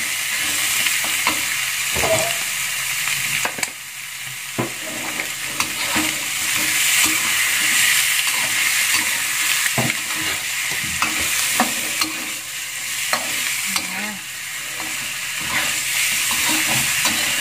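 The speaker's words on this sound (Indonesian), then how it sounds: "Nah, kita aduk perlahan-lahan." Spices frying over low heat in a pan for ayam goreng bumbu kuning, a steady sizzle and hiss with intermittent scraping stirs of the spatula, close and continuous.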